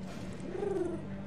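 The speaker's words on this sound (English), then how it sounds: "Pigeons!" Pigeons coo in the video game Alice: Madness Returns, a single soft, low warbling coo lasting about a second, close and alone with no talk.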